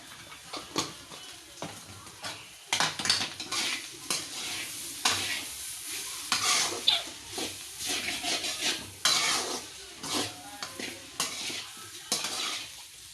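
Spices including garam masala and chaat masala stirred and mixed in a pan, with repeated spoon scrapes and clinks against the metal over a light sizzle.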